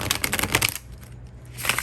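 Tarot cards being shuffled by hand during a reading, a quick run of dry papery riffling taps close by that pauses briefly, then resumes near the end.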